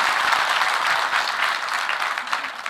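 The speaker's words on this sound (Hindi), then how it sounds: "मैं चाहूंगा कि सभागार में जितने लोग हैं एक बार जोरदार तालियां कुमारी शैलजा जी के सम्मान के लिए।" Loud, dense applause fills an auditorium at a Haryana political conclave, a crowd clapping steadily and continuously without letting up.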